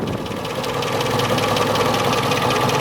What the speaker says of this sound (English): the little British 4-cylinder engine